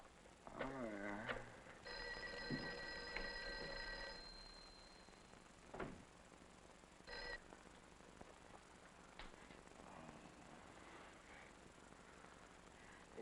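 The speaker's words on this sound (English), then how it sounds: "Mary, see if you can get Jan on the phone." Old telephone ringing with no answer in a 1959 film scene, a couple of short bell rings at moderate level with quiet room noise and faint voices around them.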